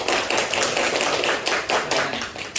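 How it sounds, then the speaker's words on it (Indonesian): Classroom applause for a student presentation group, a brisk run of close, dense hand claps from a small group of students that continues steadily throughout. "kasih tepuk tangan buat kelompok 4"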